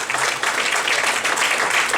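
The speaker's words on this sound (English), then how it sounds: "you deserves a huge applause" Audience applause at a Hindu Awareness Yatra gathering, a short burst of dense, continuous clapping from a crowd filling the room for about two seconds.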